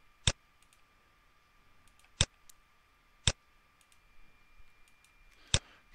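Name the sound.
computer mouse clicks selecting tests in software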